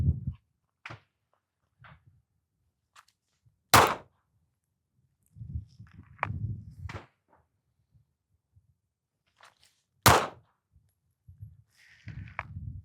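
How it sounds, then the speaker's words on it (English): Glock 42 pistol firing 95-grain .380 rounds at a target after a draw from appendix concealed carry: two sharp, loud isolated shots several seconds apart, with quieter handling thumps and rustling between them. "I'm gonna be drawing from concealed from the appendix carry, and I'm gonna be doing a couple rounds on target"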